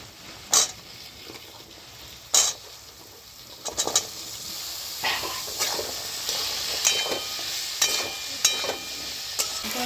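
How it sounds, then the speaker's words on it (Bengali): Chopped potatoes fry with chili powder, cumin, turmeric and salt in a pan, a steady close sizzle broken by a few sharp scrapes and clanks of stirring. "আলুর সঙ্গে মশলাটা ভালো করে কষানো হয়ে গেছে"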